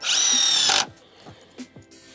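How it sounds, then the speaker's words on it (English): A power drill runs loud and steady for nearly a second, driving a screw into laminated sawmill-lumber beams, then stops, leaving a few faint knocks and handling sounds nearby. "So I'm gonna go put screws in it to hold it together,"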